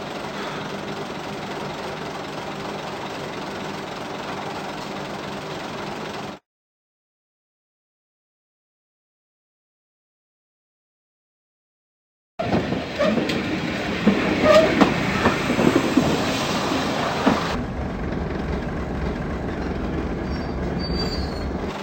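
Train sounds at a station, loud rumbling and squealing wheels for several seconds, then a stretch of silence, then rolling carriages with clattering and screeching returning close by, no voices heard.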